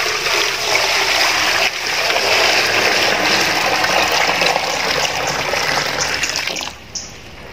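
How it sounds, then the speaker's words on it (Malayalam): Water pours steadily into a bowl in a kitchen, a continuous rushing gush that runs for several seconds and then tapers off near the end. "അപ്പൊ വേറൊരു പാത്രത്തിൽ കുറച്ച് വെള്ളം ഒഴിക്കുകയാണ്."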